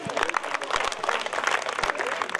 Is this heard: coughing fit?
no